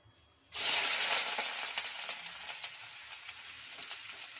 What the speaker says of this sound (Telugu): ఇప్పుడు ఇందులోకి chopped onions and garlic so వేసి ఫ్రై చేసుకుందాం